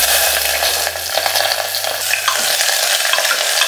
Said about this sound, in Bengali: 10 সেকেন্ড বাদে আগে পেঁয়াজটা অ্যাড করে দিচ্ছি